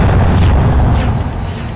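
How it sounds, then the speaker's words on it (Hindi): A T-72 tank firing at a target: a heavy, loud booming blast with a deep rumbling tail that fades over about a second, no voices. "T-72 टैंक्स किस तरीके से अपने दुश्मनों पर हमला बोलते हैं वो दिखाने की कोशिश जो है वो यहाँ पे की जा रही है"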